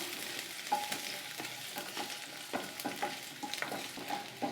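Ginger and garlic sauté in a pan for a mint and coriander chutney. A steady, soft sizzle runs throughout, and repeated scraping stirs and small clinks of a spoon against the pan come through close and clear.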